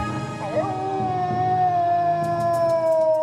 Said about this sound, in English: The wolf moon in January is named after the howling of hungry wolves in the dead of winter